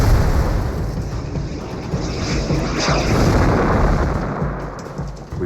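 A loud rocket explosion on a World War II battlefield, with a rocket from a Typhoon fighter-bomber striking near tanks, heard as a sustained, heavy rumbling roar that swells and fades over several seconds.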